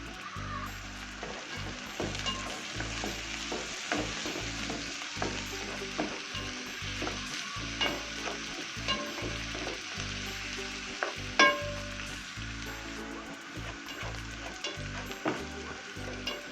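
Pepper and a couple of pieces of fat sizzle loudly in a pan, a continuous close frying hiss broken by regular rhythmic stirring scrapes and knocks throughout, no voices.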